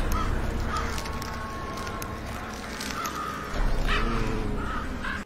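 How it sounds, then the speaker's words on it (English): Crows caw several times at a distance over a steady outdoor hiss, the calls spaced out and fairly faint. "All different kinds of birds."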